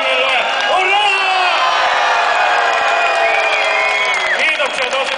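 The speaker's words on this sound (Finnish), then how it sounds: "Yksi hurraa huuto koko jengille." A big crowd at a boxing match's closing ceremony in Seinäjoki roars a loud hurrah cheer, sustained shouting and whooping from many voices all at once.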